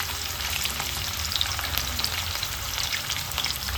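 Garlic, ginger and green chillies fry in oil for veg pulao, making a dense, even, close sizzle with light crackling and occasional stirring scrapes, steady throughout with no talking.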